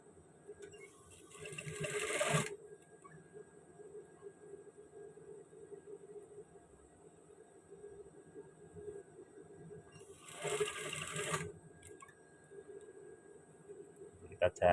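A sewing machine stitches from the inside of a men's shirt sleeve cuff in two short bursts of running, close and moderately loud, with a steady background hum between the bursts.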